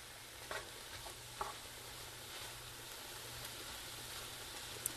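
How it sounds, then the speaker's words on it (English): Asparagus, onions and ham cooking in butter in a pan, a faint steady sizzle with occasional soft pops, quiet and continuous with no talking. "we're going to let this asparagus, onions, and ham in the butter cook for about 5 minutes."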